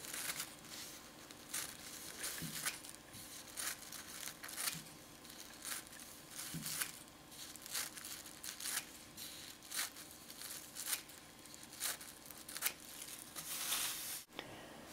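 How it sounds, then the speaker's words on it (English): Scissors cut a plastic shopping bag into strips, making repeated crinkly snips and rustling plastic at an uneven, steady working pace, close and fairly quiet. "Then cut the bag into strips about 1 inch wide, forming loops, discarding the glued end."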